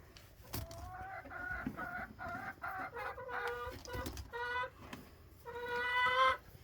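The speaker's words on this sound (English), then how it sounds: "There's the ducks, meat chickens hanging out. Good sized chickens." Chickens in a backyard coop with ducks nearby cluck and call in repeated short, rising phrases. A louder, drawn-out call near the end stands out above faint background noise.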